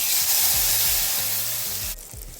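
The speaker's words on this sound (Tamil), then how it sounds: "இப்போ வந்து தாளித்து கொட்டிக்கலாம்" Hot tempering poured into a pot of pongal sambar gives a steady close sizzle that hisses loudly at first and then eases off sharply near the end, with no talking.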